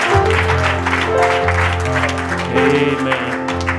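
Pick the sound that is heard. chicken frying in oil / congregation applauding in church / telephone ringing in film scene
congregation applauding in church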